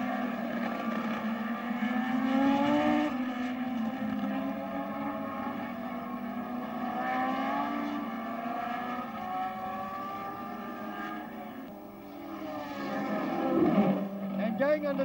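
Racing engines of 1968 Tasman Series cars, including a McLaren Cosworth, drone and whine with shifting pitch, rising and falling as they pass, with steady background noise throughout.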